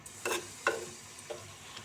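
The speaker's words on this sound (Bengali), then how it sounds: "মিক্স করে নিচ্ছি সবগুলো, যাতে নিচে না লেগে যায়। তো সবগুলো একসাথে নেড়ে চেড়ে দিচ্ছি।" An onion and tomato mixture fries in a clay pan while a utensil stirs it in about three distinct scraping strokes over a soft, continuous sizzle.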